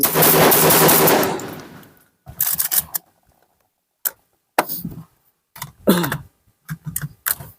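A Saiga shotgun fires a long rapid string of shots, loud and continuous at first, then breaking off into separate short bursts and single blasts with silences between.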